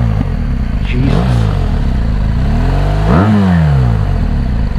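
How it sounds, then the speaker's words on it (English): A 2017 BMW R1200GS motorcycle engine revs loudly up close, rising and falling in two sharp throttle blips over a steady smooth idle. "There's just something about the BMW motorcycles that makes them so incredibly smooth."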